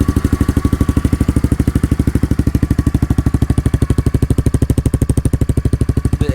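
A 2021 Honda CRF110 fitted with a Yoshimura exhaust idles while warming up, a steady, rapid, even putter held close and loud the whole time.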